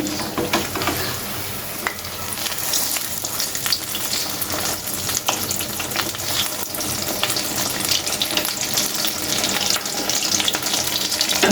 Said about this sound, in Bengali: দেখেন আলুর চপটা ভেজে নিচ্ছি।